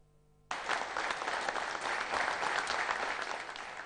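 Sudden sustained applause breaks out in the Macedonian parliament, a dense roomful of clapping that starts abruptly and continues steadily without pause.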